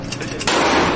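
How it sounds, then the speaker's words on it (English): A real firearm fires one loud close shot at a shooting range, a sharp blast followed by a sustained roar of echo and noise. "First shot, headshot, easy."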